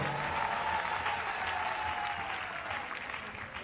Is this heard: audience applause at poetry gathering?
yes